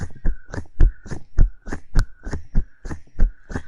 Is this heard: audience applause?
no